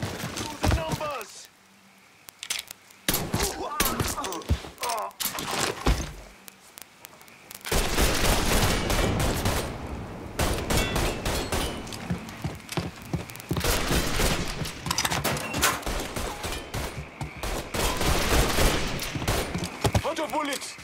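Gunfire in the video game Mafia III, dense bursts of automatic fire and rapid shots filling most of the stretch after a quieter opening, loud and sustained, with in-game shouting mixed in.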